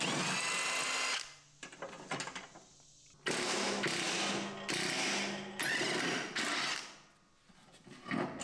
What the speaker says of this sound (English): it looks like I just need to remove 3 bolts, and then the tower will come out from the bottom side.